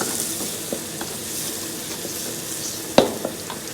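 Carrot and capsicum stir-frying in a pan for fried rice, a steady soft sizzle with light scraping and stirring clinks, one sharper knock of a utensil against the pan near the end.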